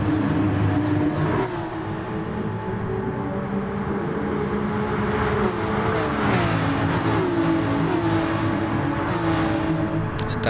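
Several racing car engines in a sim racing league event, a pack of six or seven cars battling closely, with loud continuous revving, gear shifts and passing engine drones throughout.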